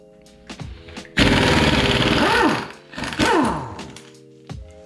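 An air impact gun works loose the crank pulley on a Honda engine, firing two loud, close bursts of rapid hammering, each about a second long, between short hisses and clicks of the tool.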